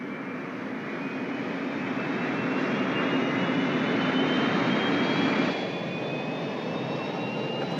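A science fiction spacecraft lifts off with a loud, sustained roaring rush like a jet engine. A faint rising whine runs over the noise, which holds steady and then eases slightly toward the end.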